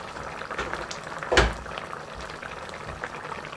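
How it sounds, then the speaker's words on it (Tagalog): A pot of broth with tofu, spam and spinach simmers with a steady soft bubbling, broken once by a brief louder knock or clatter nearby. "Pakuluan lang po natin dyan."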